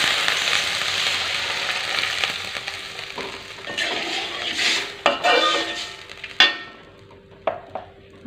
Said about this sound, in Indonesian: sekarang kita masukin air sebanyak 200 ml tadi